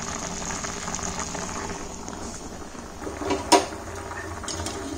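Water boiling in a cooking pot while wheat semolina mini idli balls cook, a steady bubbling simmer with one brief louder splash or clink partway through.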